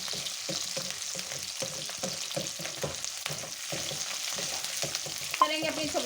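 Capsicum and other vegetables stir-fried on high heat in a pan for chicken shashlik, a steady close sizzle broken by regular scraping stirs, with a brief metallic clatter near the end.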